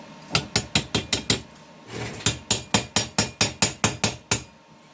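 A hammer chips slag off a stick electrode weld in quick, sharp metallic taps, a burst of about six, a short pause, then a steadier run of about ten close, ringing strikes.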